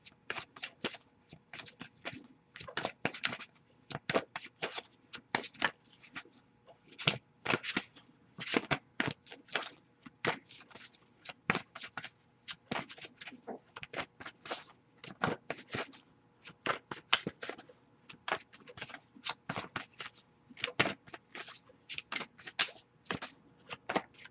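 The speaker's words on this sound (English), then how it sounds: "I'll shuffle a little bit longer and see if we get anything." Cards being shuffled over and over, quick crisp riffling bursts in an irregular rhythm, close and fairly quiet with no talking.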